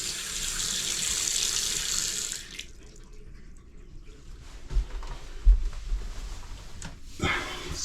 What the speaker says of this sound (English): let's go turn on the water and see how everything going